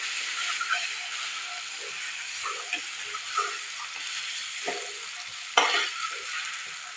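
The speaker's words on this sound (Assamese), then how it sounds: "কণীকেইটা মই ভালদৰে ভাজি লওঁ" Eggs fry in hot oil in a kadai on a gas stove, giving a steady, close sizzle and hiss with occasional light stirring scrapes and a sharper crackle near the end.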